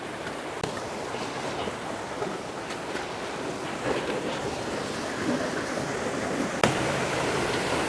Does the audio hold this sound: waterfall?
yes